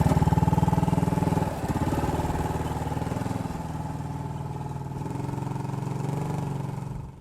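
Small postie motorcycle ridden through the Australian outback, its engine droning steadily at mid pitch and close up, louder at the start and then settling into an even cruising hum with no talk.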